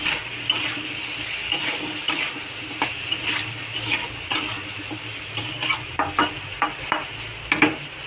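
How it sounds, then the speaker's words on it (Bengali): Vegetables with chilli are stir-fried in a kadai. A utensil scrapes and clacks against the pan in repeated irregular strokes over a steady sizzle of oil, close and fairly loud, with no talking. "নাড়িয়ে চাড়িয়ে কষিয়ে নেব খুব সুন্দর করে সবজিটাকে"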